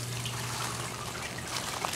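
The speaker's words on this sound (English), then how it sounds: "the overflow just comes right down into this pipe or and then down into the sump" Overflow water from an IBC aquaponics grow bed trickles down a pipe into a 100-gallon sump tank, a steady soft splashing stream heard up close for a couple of seconds.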